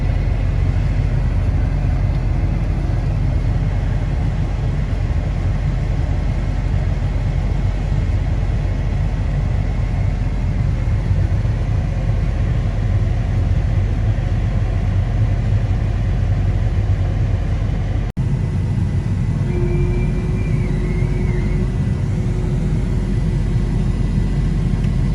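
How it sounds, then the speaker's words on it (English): A tractor with a grain cart unloads soybeans during harvest: a steady, loud engine rumble and mechanical drone run throughout without a break, with a brief shift in tone near the end. "I'll get the grain cart dumped real quick"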